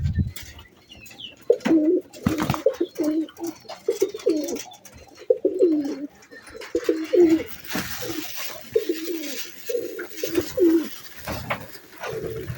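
Pigeons coo close by in a loud, rhythmic series of throaty, rolling calls, about eight phrases repeating at regular intervals, with some wing flutters and shuffling between them.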